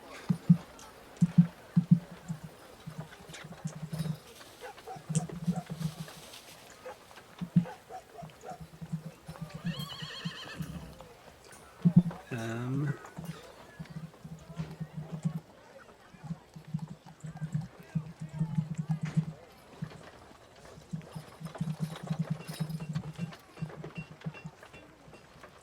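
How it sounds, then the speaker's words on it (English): Hooves clip-clop in a steady rhythm as a horse and a mule pull a cart, with a horse whinnying partway through and other faint animal calls scattered across the scene. "I head past the gate, leading a horse and a mule with a cart."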